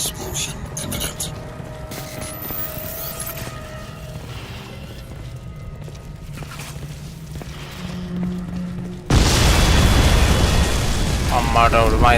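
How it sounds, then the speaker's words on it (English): A spore silo blows up in the shooter game Crysis 2 Remastered: after a stretch of quieter in-game ambience and mechanical noise, a sudden loud blast bursts in and rolls on as a sustained heavy roar to the end. "Warning. Explosion imminent."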